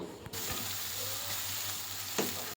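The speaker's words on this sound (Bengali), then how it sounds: "ভুনার পেঁয়াজটা কিন্তু একটু লাল লাল করে ভাজতে হয় তাই একটু সময় নিয়ে ভাজতেছি" Chopped onions fry steadily in oil for a bhuna, browning slowly. The sizzle is close and continuous, with a few faint spatula clicks and no voices.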